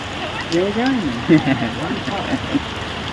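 Rain patters steadily in the background while someone talks over it, in a village.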